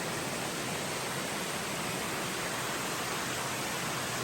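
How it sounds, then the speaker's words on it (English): A stream on the Appalachian Trail in Virginia runs full after rain, making a steady, even rushing wash of water that fills the whole moment with no voices. "I'd say the water's flowing good after all the rain yesterday."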